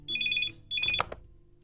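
A telephone rings indoors in two electronic trilling bursts separated by a short gap, the second cut off by a clunk as the receiver is picked up; fairly faint.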